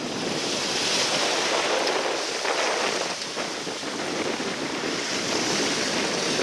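Ocean waves at sea around a sailboat heading toward Turks and Caicos as evening falls, a loud, constant wash of surf mixed with heavy wind rushing over the microphone, with no talking.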